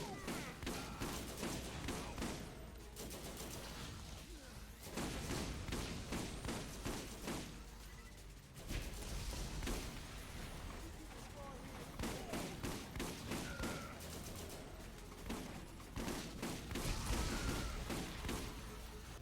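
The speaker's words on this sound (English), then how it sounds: "this is actually kind of a nice rocket launcher now that I'm using it properly" Rocket launcher fire in the video game Borderlands with a modded Roland, repeated booming launches and explosions in rapid bursts throughout, loud and dense, with someone talking.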